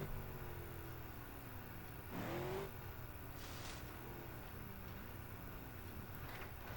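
A car engine in BeamNG Drive revs and shifts pitch, with a brief louder surge, then a steady mid-level drone with wavering tone; no talking.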